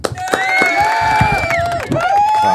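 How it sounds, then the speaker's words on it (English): An audience at a talk on helping youth move into college claps and cheers in a short, dense burst, with shouts and voices mixed into the noise. "Yeah, clap it up for that one."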